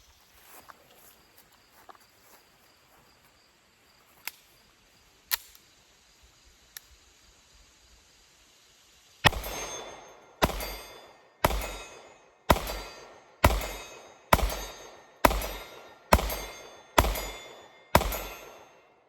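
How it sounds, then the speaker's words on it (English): A Staccato CS pistol fires ten evenly spaced shots at a steel target about 40 yards downrange, each sharp crack followed by a brief ringing tail, after a quieter stretch of faint clicks and handling sounds. "see if we can hit that steel target down there 10 out of 10 times"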